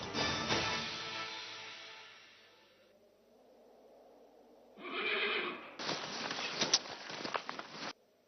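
A horse whinnies loudly up close, its long neigh trailing off, followed by a second shorter neigh and a burst of clattering hoof noise, with no talking; the scene is set in a Mughal imperial court.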